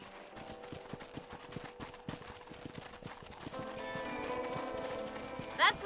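Horse hooves clip-clop steadily through a corral in the Red Dead Redemption game, a repeated rhythmic clatter over talk and ambient music, with a brief louder burst near the end.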